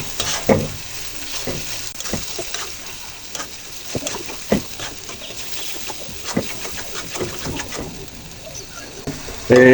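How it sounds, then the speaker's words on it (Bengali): Tomato sauce stirred into fish masala frying in a pan, irregular scraping and tapping of the spoon over a constant sizzle, close up, with faint bird calls in the background. "টমেটো সসগুলো দিয়ে দিলাম এতে খেতে ভালো লাগবে এগুলো ভালো করে নেড়ে চেড়ে দিতে হবে"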